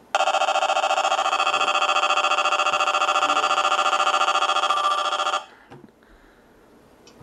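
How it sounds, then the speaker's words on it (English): Alert siren test on an Eton ZoneGuard Plus weather radio: a harsh, buzzy, pulsing electronic tone blaring loudly and continuously for about five seconds, then stopping abruptly into near silence. "the siren on this radio is the worst sounding siren on any radio I've ever heard"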